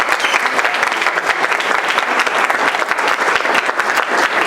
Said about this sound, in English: Mary Keenan should get a round of applause for all the work she did for that